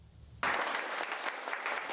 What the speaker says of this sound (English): The audience clapped